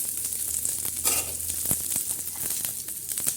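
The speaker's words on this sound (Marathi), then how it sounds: "परत असं थोडंसं असं भाजून घेणार आहे" Garlic cloves roasting in oil in a pan, a close crackling sizzle with intermittent pops and stirring scrapes throughout the short stretch.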